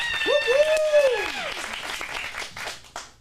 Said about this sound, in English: Let's give a big round of applause for Jack.